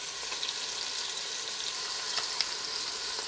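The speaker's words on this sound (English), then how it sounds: "So we're browning about 3 minutes aside." Seasoned pork browning in oil in an Instant Pot, a steady close sizzle and crackle that fills the whole clip, with a few sharper pops near the end and no one talking.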